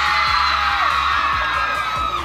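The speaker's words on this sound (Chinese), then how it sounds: "掌声！" Fans in a Taipei crowd greeting a singer keep up a loud, continuous roar of screams and cheers that may carry applause. The sound is dense and unbroken throughout.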